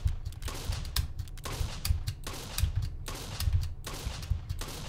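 Shotgun blasts ring out in a jumping-and-crates video game, coming as a rapid run of sharp, punchy shots in irregular bursts, loud and close, with no talking over them.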